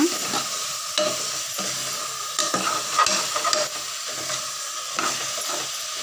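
Chicken for biryani is stirred and mixed in a sizzling pot, with repeated scraping strokes about once a second over a steady frying hiss, close and clear with no talking.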